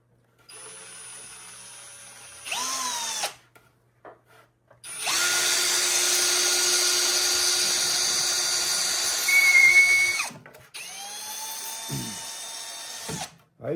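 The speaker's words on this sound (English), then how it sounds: "I'm going to grab the drill and come down through here" A power drill bores through a foam Air Hogs Titan FPV model airplane in several whining bursts that rise as the motor spins up and then stop, close and loud, with short quiet gaps between runs.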